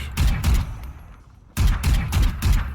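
The Vandal rifle in Valorant tap-fires in short bursts, two clusters of sharp, loud shots separated by a brief pause, punchy and close.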